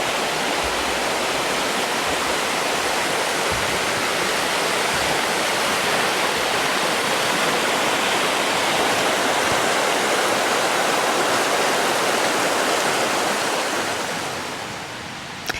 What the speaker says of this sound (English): the first thing you come to is a beautiful bridge and water crossing.